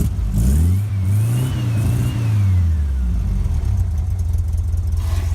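A 1963 rag top car engine idles, then swells through a strong rev that climbs and falls over a couple of seconds before settling back to a steady, close, loud idle. No one speaks.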